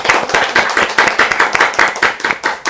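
Audience at a talk show clapping for an arriving guest, sharp rhythmic hand claps in quick, fairly even pulses, close and lively, with no talking over them.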